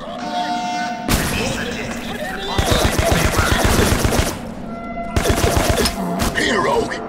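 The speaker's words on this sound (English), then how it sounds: "Good shooting!" Rogue Trooper Redux video game gunfire erupts in rapid automatic bursts, loud and close, in several clusters separated by brief lulls, with game sound effects around it.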